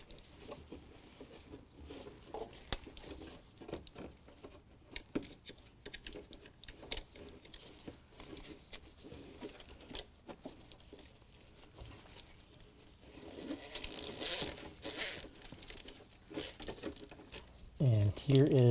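A wiring harness for an AMP Research Powerstep is pushed through the fender liner of a 2019 Ram 1500, with quiet rustling, scraping and crinkling plastic sounds close by, ending in a louder bump.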